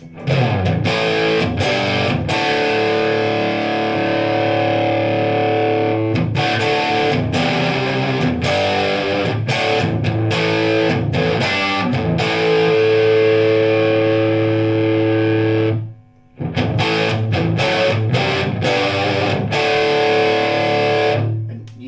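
A loud, heavily distorted electric guitar played through a modified Masco ME-27 amp cranked to full volume, bright, thick strummed chords driving on continuously with one brief pause near the end.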